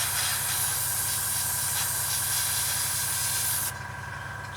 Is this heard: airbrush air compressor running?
yes